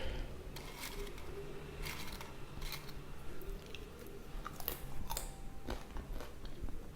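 Close chewing of crunchy no-fry, no-bake ash gourd chips seasoned with chili and lemon, with repeated crisp crunches and bites over several seconds and no talking.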